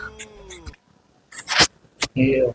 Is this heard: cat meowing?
yes